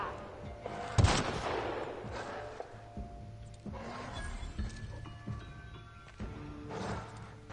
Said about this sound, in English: I'll shoot you right here